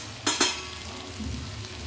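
Spices are stirred into a green vegetable dish with groundnuts in a hot pan, giving a steady close sizzle with two sharp scraping strokes of the spoon near the start.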